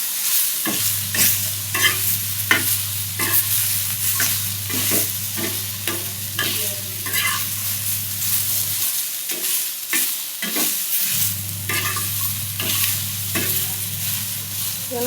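Onions and garlic with cloves frying and being stirred in a pan for chicken curry, a steady close sizzle broken by repeated scraping stirs, with a low hum dropping out briefly midway before returning.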